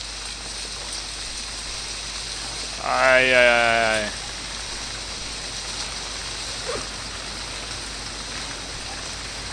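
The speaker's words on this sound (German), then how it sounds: "Ah, jetzt regnet es auch noch." Steady rain falls in the survival game Stranded Deep, a continuous soft hiss of drops throughout, briefly interrupted by a short exclaimed voice near the start.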